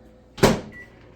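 A microwave oven door shuts with a single solid thump, followed by a faint lingering hum.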